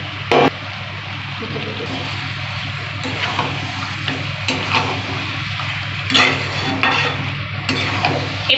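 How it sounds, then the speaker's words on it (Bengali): Marinated mutton frying in spiced oil in a pan, a steady close sizzle with repeated scraping stirs and a few knocks of the spoon against the pan, without talk. "এবার আমি মাংসটা একটু ভালো করে কষিয়ে নেব"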